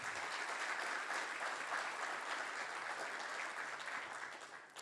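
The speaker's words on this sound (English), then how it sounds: "please give him a large round of applause" A conference audience at a jewellery industry forum gives sustained, even applause after a presentation, the clapping steady and fairly distant before tapering off at the end.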